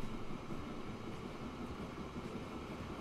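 A train rolls along a line in Transport Fever 2, a steady low rumble with faint rail clatter that stays constant and fairly quiet throughout, with no talking.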